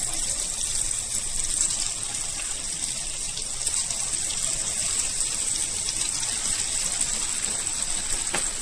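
Chicken pakoda pieces sizzle in hot oil with a steady, hissing fry that stays loud and constant throughout, with no talking.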